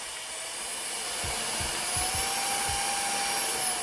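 A Meco Eleverde compressed air duster and mini vacuum runs steadily, a continuous high-pitched motor whine with a few soft low thumps from handling near the microphone.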